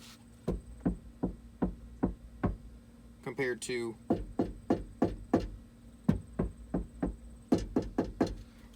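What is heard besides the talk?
knocking on truck door outside with sound-deadening kit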